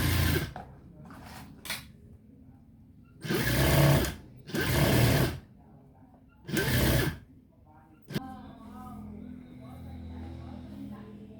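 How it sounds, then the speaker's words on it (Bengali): A sewing machine sews a straight seam on a children's garment in three short, loud bursts of rapid stitching, with quiet pauses between them, then softer handling noises and faint background talk at the end. "একসাথে রেখে সোজা সেলাই করে নেবেন, এক চাপ, অর্থাৎ এই সাইডে দা সেলাই করে নেবেন।"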